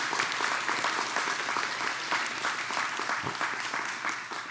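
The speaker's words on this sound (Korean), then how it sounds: "우리 박수로 환영하도록 하겠습니다" Church congregation at a Sunday worship service claps to welcome visiting family members, a dense, sustained round of applause from many people throughout, fairly loud and unbroken.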